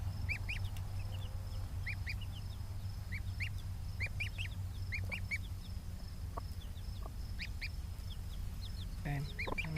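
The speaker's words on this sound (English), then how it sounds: "So Mom is seriously focused on teaching those two chicks how to forage. But this little Gosling, I think, is cold." Gosling and two chicks peep in short, high, repeated bursts near a mother hen foraging outdoors, over a steady low hum and background noise, with no talking.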